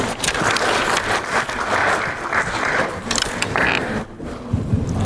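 Applause from an audience at a business partnership summit roadshow in South Korea welcomes a speaker to the stage: a loud, continuous wash of clapping that thins briefly near the end.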